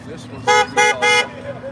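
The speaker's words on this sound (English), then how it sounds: "Honking horns." Car horns honk on a street during a Saturday gathering, three loud, evenly spaced blasts close by, followed by quieter traffic noise.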